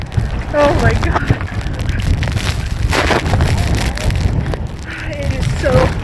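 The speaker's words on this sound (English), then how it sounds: "It is so crazy windy here." Strong gusting wind at the Blue Lagoon in Iceland during stormy, rainy weather buffets the microphone with a loud, continuous roar, while a voice speaks over it in places.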